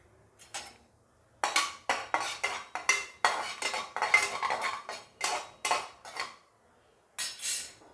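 Cumin seeds stirred in a pan with a spatula, giving bursts of scraping and rattling against the metal that come in a steady rhythm, pause briefly, then start again, close and clear with no talking.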